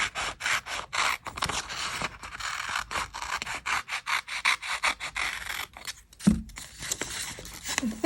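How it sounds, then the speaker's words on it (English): Irregular scissor snips and papery rustling as a piece of a leftover sticker sheet is trimmed for a Hobonichi Cousin planner, close up with frequent short cuts and no voices. "now we gotta trim up the second piece and make sure it's roughly the same size."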